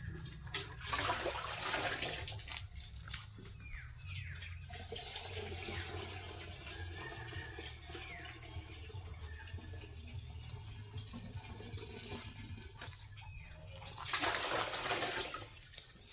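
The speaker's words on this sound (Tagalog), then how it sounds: "kailangan talaga guys isasala muna ang tubig kasi para hindi siya magbara" Water poured and strained through a filter, a steady splashing and trickling stream lasting throughout at moderate loudness, with a few heavier gushes near the start and end and no talking.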